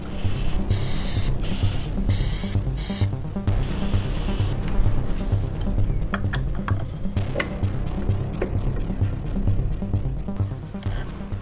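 Spray paint hisses from an aerosol can onto scrap pieces in several loud, close bursts, followed by quieter mechanical rattles and clicks from the can.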